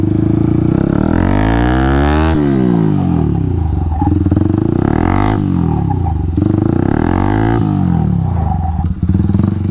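A motorcycle engine revs loud and close while warming its rear tyre, its pitch swelling up and dropping back repeatedly in long sustained pulls.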